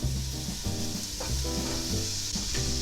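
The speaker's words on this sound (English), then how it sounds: "as we brown the sausage" Sausage browning in a bigger pot for seafood gumbo, a steady loud sizzle with rhythmic scraping and stirring strokes repeating about every half second, and no voices.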